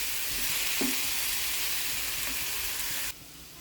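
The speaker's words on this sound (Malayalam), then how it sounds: "ഇളക്കി കൊടുക്കുക." Pre-cooked beef stirred and fried in a hot pan for a Kerala beef ularthiyathu gives a loud, continuous close-up sizzle, with a spatula scrape early on before the frying noise suddenly drops lower near the end.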